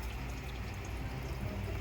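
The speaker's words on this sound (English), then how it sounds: "Look at all that water coming out of that intake." Water gushing steadily out of a car engine's air intake, a continuous loud pouring splash that keeps on without letup.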